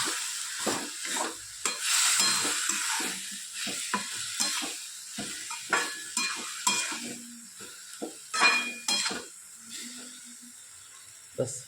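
A spoon repeatedly scrapes and stirs kaju agathiya shaak, a cashew vegetable curry with coriander and a little water, in a pan. Irregular close strokes ride over a gentle sizzle, with pauses between bursts.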